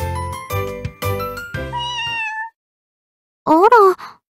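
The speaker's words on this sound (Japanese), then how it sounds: "可愛い猫ちゃん" A cute cartoon cat meows in a video game, several short harmonic calls in quick succession, then a pause before one longer, rising meow, close and clear with no talk.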